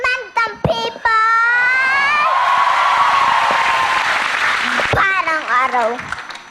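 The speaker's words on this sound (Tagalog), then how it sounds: "Palakpak nga dyan" A TV variety show studio audience applauds and cheers, swelling and sustaining for a few seconds, with excited voices shouting over the clapping at the start and end.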